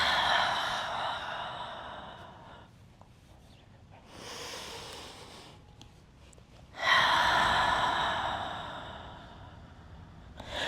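Slow, deep breaths during a power yoga session, with long airy exhales and softer inhales drawn out over several seconds, close and quiet with no talk.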